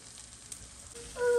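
Okra frying in a pan for dahi bhindi masala gives a steady, close sizzle that grows louder near the end of the brief moment.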